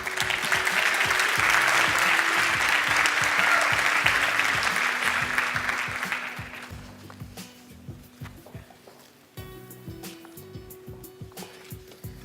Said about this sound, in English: A round of applause for all the digital media technology graduates